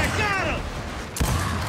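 Hammerburst rifle fire in a Gears of War multiplayer match: quick mechanical gunfire bursts, including a sharp report near the end, mixed under a voice talking.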